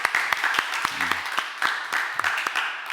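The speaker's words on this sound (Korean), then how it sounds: "우리 좀 축하해 우리 박수로 한번" Church congregation clapping in celebration during a Sunday service, a steady wash of applause from many hands with occasional sharper claps, moderately loud, a voice briefly heard over it.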